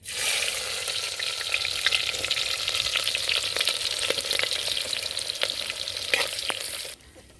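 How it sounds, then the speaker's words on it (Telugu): Mustard, fenugreek and cumin seeds crackle and pop in hot oil for a village fish curry, a dense steady sizzle with sharp spluttering pops close up, stopping abruptly near the end. "ఆవాలు మెంతులు జీలకర్ర పగలుతున్నాయి"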